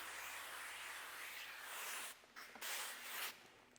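Spray bottle misting soapy water onto paint protection film on the front of a 2025 Jeep Grand Cherokee Overland, a steady close hiss broken by a few brief pauses between squirts.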